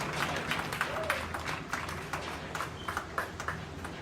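Audience claps at a county 4-H market swine show, a scattered, moderately faint round of applause in a large room with some background voices.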